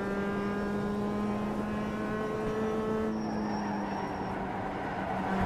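A race car engine in the iRacing simulator drones steadily through a lap, its tone shifting partway as the driver lifts off the gas and brakes for a corner, loud and continuous.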